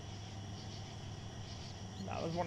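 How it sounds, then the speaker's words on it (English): Crickets chirp at night in the Trainz railway simulator game: a steady, fairly faint high pulsing drone runs throughout, with a voice briefly joining near the end. "I hear the crickets."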